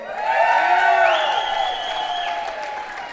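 A gala crowd at a hall of fame ceremony applauds and cheers for an inductee, a dense wash of clapping with whoops rising over it, loud and steady before easing slightly.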